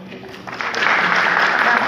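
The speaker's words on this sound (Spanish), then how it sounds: "Aplaudimos." An audience at an education policy meeting on Aymara, Quechua and Amazonian Indigenous peoples bursts into applause, a dense, fairly loud wash of clapping that swells in after a brief lead-in and holds steady.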